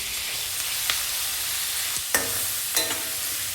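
Chopped tomatoes go into a frying pan and are stirred in, a soft steady sizzle with a few sharp scraping clacks of the spoon against the pan.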